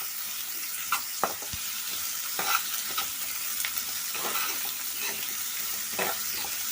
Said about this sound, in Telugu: వీటిని చిన్న ముక్కలుగా తరుక్కొని నూనెలో వేయించుకుందాం.